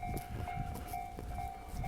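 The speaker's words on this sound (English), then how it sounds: "There is a train coming" A train rolls past near JR Yamazaki Station in Kyoto, a faint, distant rumble with rhythmic clatter and a steady high tone over low background noise.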